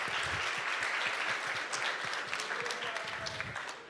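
A large audience of ICT professionals at a Huawei sponsor talk claps steadily in a sustained, even round of applause heard from within the hall, with no speech over it.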